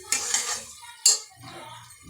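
A metal spoon scrapes and clanks twice against a pan while whole masoor lentils are stirred into fried masala, with softer sizzling and scraping between the strikes.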